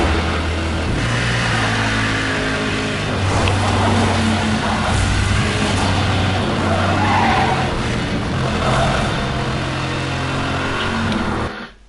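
A car skidding at high speed in the racing game Need for Speed Hot Pursuit Remastered, a long loud tire squeal over a droning engine that holds steady for several seconds.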